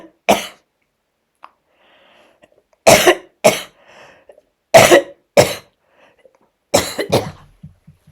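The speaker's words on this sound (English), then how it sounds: "I apologize for all this coughing." Harsh, close coughs come in bursts, single and paired, separated by silent pauses, with a few quieter throat sounds between.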